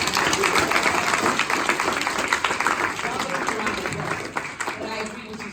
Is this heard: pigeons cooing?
no